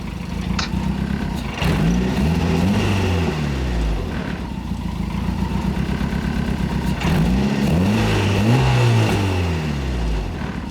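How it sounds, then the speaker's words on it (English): A turbocharged Miata, freshly e-tuned, sits idling while its exhaust crackles and pops; the engine's low rumble swells and dips through two rev cycles, loud and close, with sharp pops scattered throughout. "I can hear the fire, bro."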